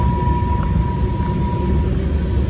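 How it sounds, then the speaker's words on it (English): A long, empty freight train passing outdoors on a cold day, a steady low rumble and roar with a faint tonal whine, continuous and fairly loud throughout. "Well, that's a long train."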